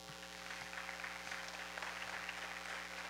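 A church congregation applauds at a worship service in a steady, sustained wash of clapping from many hands, with faint music holding underneath.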